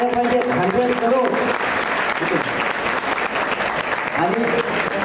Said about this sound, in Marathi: तेवढ्या टाळ्या झाल्या पाहिजेत